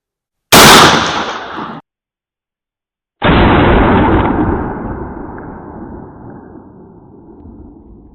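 Two loud 12 gauge slug shotgun blasts at an outdoor range, each a sharp close report with a long rolling echo, the second trailing off slowly.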